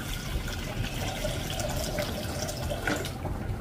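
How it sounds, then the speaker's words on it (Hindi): Water pours into a cooking pot of washed lentils, a steady close splashing and trickling stream that continues throughout without speech. "ये मैंने इसमें पानी डाल दिया है"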